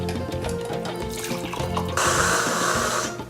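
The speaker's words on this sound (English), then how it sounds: "Pour it in the mug." Heath bar hot chocolate poured into a mug, a steady liquid stream that turns brighter and fuller partway through, close and fairly loud with no talking.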